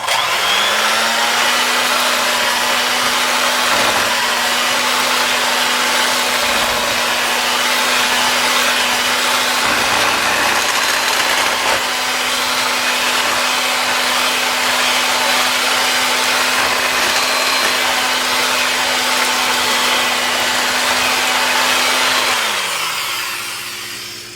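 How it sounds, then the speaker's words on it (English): An electric mixer beats eggs for a Woolton pie, a loud, continuous whirring motor that holds a steady pitch for over twenty seconds, then winds down at the end. "and egg number 2. And we beat that until it's nice and smooth."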